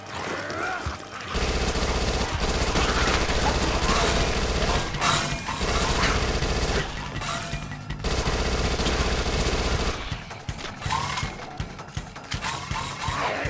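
In Dead Nation, an SMG fires in long rapid bursts of dense clattering shots, loud and continuous for several seconds, broken by short pauses, with shattering impacts and mechanical clicks between volleys.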